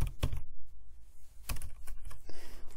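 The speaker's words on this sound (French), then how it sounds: "oui, je tape n'importe quel mot." Keys on a computer keyboard are pressed in short irregular bursts, close and fairly loud, with pauses between clusters of clicks and no voices.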